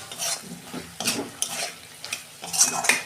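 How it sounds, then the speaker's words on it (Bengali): Spice masala being sautéed with potato and curry leaves for a Bengali fish curry, with a spatula scraping and clanking in the pan in separate strokes over a light sizzle, close, with no talking. "আমি 2 মিনিট একটু কষাবো।"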